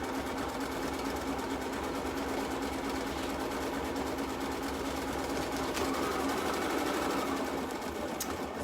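A sewing machine stitches a seam on an embroidery project in one continuous, even run, a close and steady mechanical whir that carries on uninterrupted with no talking.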